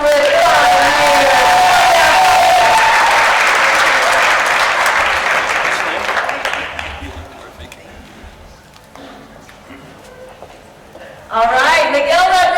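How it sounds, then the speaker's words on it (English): Audience at a monthly celebration event applauds and cheers loudly, the clapping fading over several seconds before a voice begins speaking near the end. "Let's make a little noise for Kelly Burton with 5 years."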